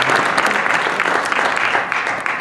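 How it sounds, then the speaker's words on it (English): Applause from an audience at a college debate club presentation, a brief burst of many hands clapping, dense and fairly loud, easing slightly toward the end. "Let's give her a round of applause."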